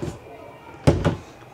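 A bunk room door in a Brinkley Model Z 3110 RV swings shut with a firm, close thud and a brief rattle, following a faint knock.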